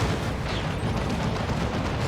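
Autocannon fire from a Chaos Space Marine Havoc squad in the Warhammer 40,000 strategy game Dawn of War 2: a dense, continuous roar of rapid booming shots with battle din, loud and close, no talking.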